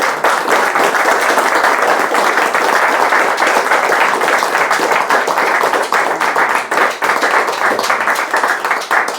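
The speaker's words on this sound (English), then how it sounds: "Round of applause" Sustained, dense applause from an audience at the close of a synthesizer module presentation, loud and steady for the full stretch with no talk over it.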